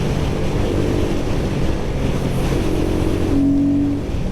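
Royal Enfield Guerrilla 450 motorcycle with its single-cylinder engine held at high revs, a loud, steady roaring drone close by that eases off slightly toward the end.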